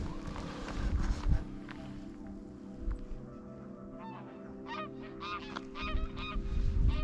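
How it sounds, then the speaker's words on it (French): Greylag geese honk repeatedly at moderate distance at the Domaine des oiseaux, a cluster of nasal calls building toward the end, over outdoor rumble and some movement nearby. "Ce sont des oies cendrées."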